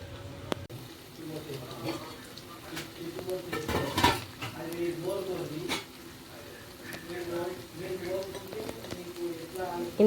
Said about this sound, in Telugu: తర్వాత మొత్తం కలిపేసుకున్నాక కాసేపు వేగనివ్వాలి